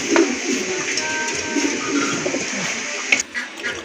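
Pigeons kept for sale cooing in a loft, with soft low coos under a dense, noisy background of other birds and a steady hum.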